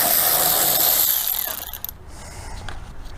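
Ratchet fitted with a 10 mm socket turning a bolt while removing the transmission on a 2004-2013 Mazda 3, a dense run of rapid pawl clicks close by that quickly drops off into quieter, scattered clicks.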